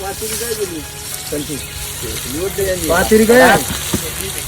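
Fish fries on a hot tawa griddle, a steady close sizzle that runs throughout while people talk over it.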